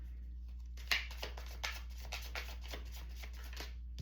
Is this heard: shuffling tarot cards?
yes